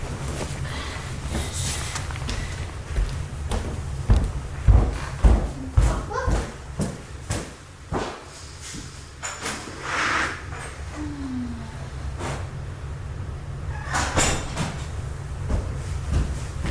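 A house door opened to let a pet out, a series of knocks, rattles and thumps with a latch click and bumps, fairly close, followed by quieter handling.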